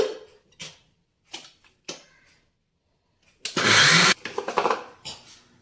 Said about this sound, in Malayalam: ഇനി നമുക്ക് മിക്സിയിലിട്ട് അടിക്കാം